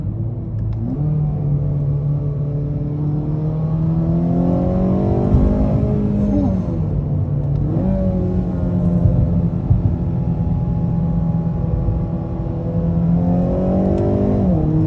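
A 2022 Acura ILX engine revs and accelerates hard, pitch climbing through quick gear shifts, loud and close for the whole stretch.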